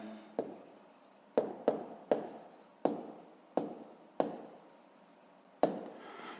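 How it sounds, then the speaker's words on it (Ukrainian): Pen writing on paper while working out a fifth-grade math answer makes faint, close, scratchy strokes in short separate bursts, each starting with a light tap of the tip, about eight in all. "зараз записуємо відповідь"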